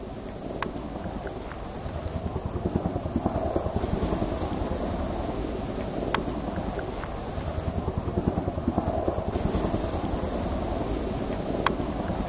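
Helicopters approach over a wooded area, a steady, rhythmic rotor thumping that runs throughout on a muffled, low-fidelity recording with no one talking.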